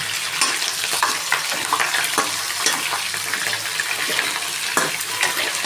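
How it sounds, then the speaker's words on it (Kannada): Brinjals fry in hot oil in a pan for Karnataka-style sambar, giving a steady, dense sizzle with occasional crackles and pops from the pieces, loud and close with no talking. "ಒಂದೊಂದೇ ಬದನೇಕಾಯಿ ಹಾಕಿ ಈ ಥರ ಫ್ರೈ ಮಾಡಿ."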